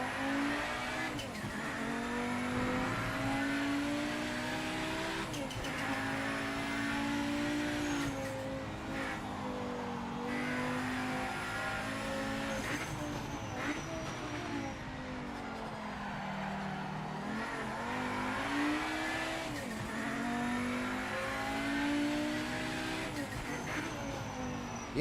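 A race car engine on an out lap in Project Motor Racing drones steadily, its pitch rising and falling through gear changes and corners, with tire noise underneath and no talk.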